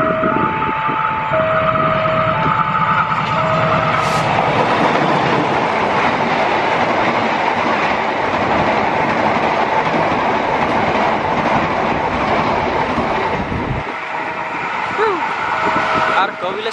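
The Argo Semeru passenger train rumbles loudly through a level crossing near Kaliwingko, steady close clatter of wheels on rails with horn-like tones and crossing bells, fading slightly near the end.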